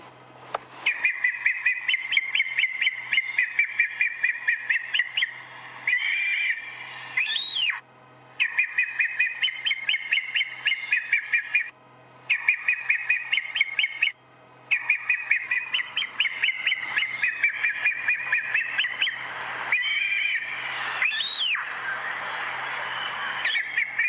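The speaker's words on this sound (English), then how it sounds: "It's going to make the sound of an eagle now." A recorded bird call played back from a handheld device outdoors on a sunrise safari drive: repeated bursts of high, whistling chirps with rising sweeps, loud and clear for about 24 seconds with no talking.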